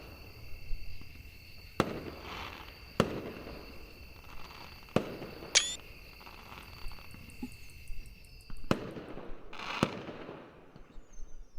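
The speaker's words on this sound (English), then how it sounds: "Soon I heard the sound of a first rocket making its way into the night sky, after which it exploded in a pattern of colors." Fireworks rockets burst in a video game night sky, a series of sharp booms spaced a few seconds apart with one whistling rise, each blast echoing against a steady background hum.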